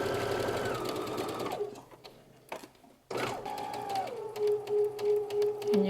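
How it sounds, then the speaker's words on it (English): A sewing machine whirs in steady bursts while sewing a basting stitch, pausing briefly before starting up again, close and fairly loud with no voices. "we're going to go to the sewing machine and we're going to insert a basting stitch"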